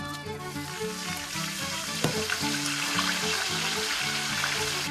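Fish and potatoes deep fry in hot oil in a Turkish kitchen, a dense continuous sizzle and bubbling heard close, with sustained music notes layered over it.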